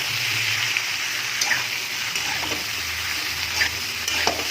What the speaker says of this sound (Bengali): ঢেঁড়সগুলো ভালো করে ভেজে নেব।